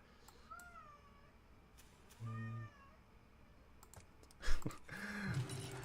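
A pet cat meows insistently, wanting to play: a short meow, a longer, stronger one, and a final drawn-out cry near the end, with soft clicks and light room noise in between.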